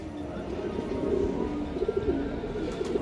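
Soft, repeated cooing comes from pigeons at a loft farm of old-breed racing birds, low murmurs rising and falling over a steady background, without talking.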